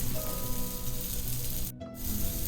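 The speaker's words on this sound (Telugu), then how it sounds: "ఆయిల్ హీట్ అయిన తర్వాత మసాలా వేసి పెట్టుకున్న కాలీఫ్లవర్ ముక్కల్ని ఇందులోకి వేసుకొని 7 to 8 మినిట్స్ లో టు మీడియం ఫ్లేమ్లో అడ్జస్ట్ చేసుకుంటూ ఫ్రై చేసుకోవాలి" Spiced cauliflower pieces fry in a shallow layer of oil in a pan over medium flame, giving a steady, close sizzle with a brief dip partway through.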